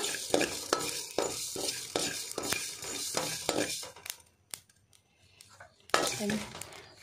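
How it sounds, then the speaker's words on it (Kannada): Cumin seeds being dry roasted in a pan on a slow flame for a spicy post-pregnancy curry, with rhythmic stirring, scraping and light sizzling, a short quiet pause, then more stirring. "ಜೀರಿಗೆ ಬಾಡಿಯೆ ಸ್ಲೋ ಫ್ಲೇಮ್ ದಿಲೆ ಸ್ಲೋ ಫ್ಲೇಮ್ ಇದೆ ಡ್ರೈ ರೋಸ್ಟ್ ಮಲ್ಪಾರೆ ಈಗ"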